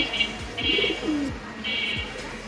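Pigeons coo close by, soft rolling calls repeating, with a faint chirp overhead and no talking.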